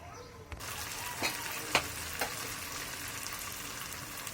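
A spice mix (masala) for biryani fries in a pan with a close, steady sizzle, broken by a few sharp clicks and clatters of stirring.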